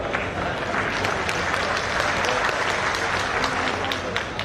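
Audience at a Jamiat Sadbhavna Manch gathering breaking into sustained applause, a dense, even wash of many hands clapping close and loud for several seconds.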